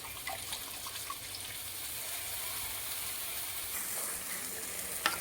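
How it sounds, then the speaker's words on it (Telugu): Tamarind juice poured into a frying fish curry base in a pan, giving a steady, moderate sizzle with a watery pouring hiss throughout and a brief clink near the end. "ఇప్పుడు మనం చింతపండు పులుసు పోసుకోవాలి"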